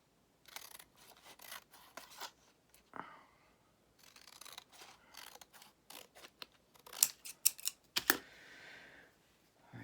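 Scissors snipping through a journal kit in short, quiet bursts of crisp cuts, with soft paper rustling and handling noises between them, close and fairly faint.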